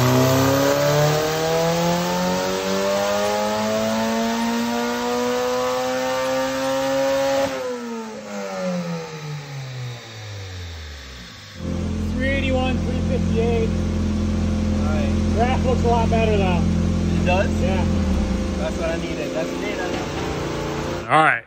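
A K-series swapped Porsche engine runs a dyno pull with VTEC, climbing loudly through the revs, dropping off, then revving hard again, with voices partly over the later stretch.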